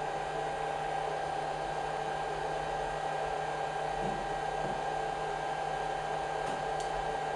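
A BGA rework station blowing hot air while heating to 210 Celsius, a steady unbroken fan hiss and hum, moderately loud and constant throughout with a few faint clicks.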